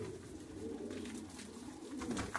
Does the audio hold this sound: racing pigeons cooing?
yes